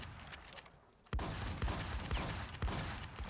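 Gunfire erupts in a video game shootout: a quieter stretch gives way to loud, sharp bursts of rapid shots, with short pauses between volleys and a dense, close, crackling texture.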